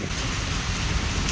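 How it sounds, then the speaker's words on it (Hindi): Steady, dense downpour of heavy rain hissing across the whole moment, loud and close, with no voices. "बहुत तेज बारिश"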